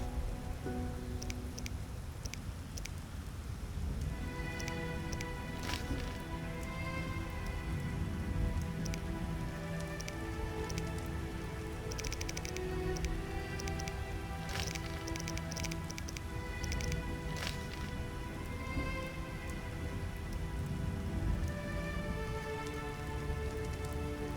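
Heavy rain falls steadily in The Witcher video game, a dense continuous patter of drops on surfaces, loud and unbroken, with faint tonal game ambience underneath and no speech.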